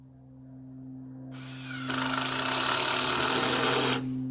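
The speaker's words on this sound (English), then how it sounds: "these little electric saws, these things have really come a long ways" A small electric saw cutting during a zero-cost shed build: a quiet motor hum rises into a loud, steady buzzing cut lasting about two seconds, then drops off abruptly, with no talking.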